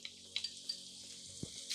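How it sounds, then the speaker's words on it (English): Ginger slices sizzling in sesame oil in a pan, a faint, steady hiss of frying with a few light pops and a soft knock, and no talking. "We're gonna let the ginger sizzle in the oil for 1 to 2 minutes"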